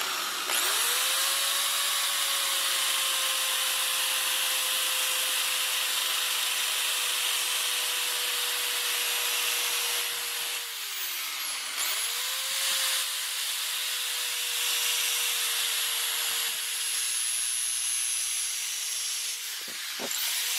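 A powered sander runs continuously, shaping a bevel and cleaning up a short-scale bass guitar headstock with 80 grit sandpaper; a steady, close whine with abrasive rasp that briefly dips in pitch as it bears down.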